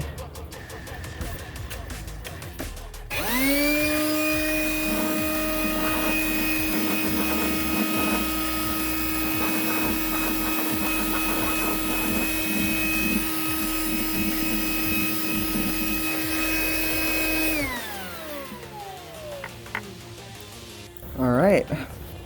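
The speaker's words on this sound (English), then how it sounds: "I'm going to take the little blower thing and blow this whole thing out." A small air blower runs steadily for about fifteen seconds while blowing dust out of a JVC MX-G70 speaker cabinet, its loud whine holding one pitch and then spinning down, with faint rustling before and after.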